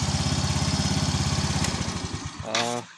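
A Yamaha Fino 125 scooter engine that misfires and lacks power idles with a steady, pulsing putter. The pulsing weakens and cuts out, followed by a brief clatter at the end.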